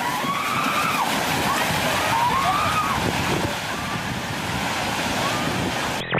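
Ocean waves crash on the shore in a continuous loud wash mixed with heavy wind noise on the microphone, with faint high sounds drifting over the surf.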